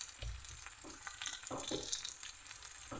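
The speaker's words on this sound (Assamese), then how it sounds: "এতিয়া অলপ সময় ঢাকনি নিদিয়াকৈ ভাজি থাকিম।" Meat fries uncovered in a pan with turmeric and salt, giving a soft continuous sizzle with scattered crackles and occasional stirring scrapes, fairly quiet and close.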